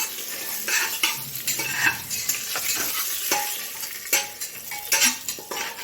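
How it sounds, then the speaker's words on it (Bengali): Whole cumin, cinnamon pieces, cardamom pods and cloves frying in hot oil for Bengali mutton pulao, stirred with a spatula: steady sizzle with repeated scraping and clinking strokes against the pan, close and moderately loud, no talking. "এবার একটু নাড়া দেবো খুঁটি দিয়ে।"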